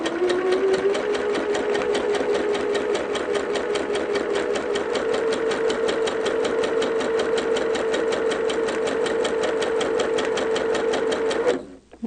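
A sewing machine stitches straight quilting lines in white thread at a 1.8 stitch length, a loud, steady, fast mechanical whir and rattle running unbroken for about eleven seconds before stopping abruptly.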